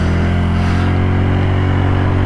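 A 150cc Icebear Hawkeye scooter engine idles too high, putting out a continuous close buzzing drone with a steady low hum and a brighter raspy layer above, running alone with no talk.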